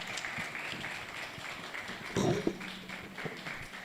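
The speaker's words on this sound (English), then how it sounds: "Please keep clapping as he walks up stage." Audience applause welcoming a speaker at a hackathon launch, steady clapping throughout with a brief murmur of voices partway through.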